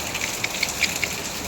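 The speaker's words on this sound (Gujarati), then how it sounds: "વરસાદ આજનો એકદાર જોરદાર છે" Heavy rain falls in Surat, a dense hiss of drops on surfaces with a few sharper splatters, steady and fairly faint over a short moment.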